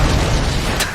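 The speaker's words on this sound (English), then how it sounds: "Propelled by an explosion." A cartoon explosion sound effect from Family Guy: a dense, loud, sustained roaring burst lasting about a second, with a brief hiss near the end.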